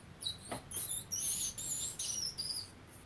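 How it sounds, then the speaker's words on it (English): A rat squeaks in a quick run of high, thin chirps, loud and close with no one talking, played back through a Google Home smart speaker. "This is a rat."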